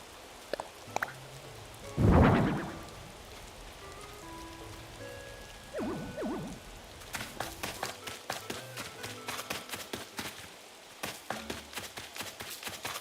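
Rain falls in Animal Crossing during Halloween decorating, a soft steady patter beneath scattered game sound effects: a loud burst near the start, short tonal chimes, then a string of quick clicks and taps.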